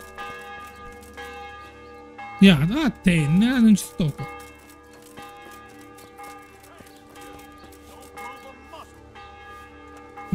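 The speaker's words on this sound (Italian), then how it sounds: "Le campane qua troppo su, non sento." Church bells ring in a video game town, a sustained tonal peal running throughout while someone talks loudly over it midway.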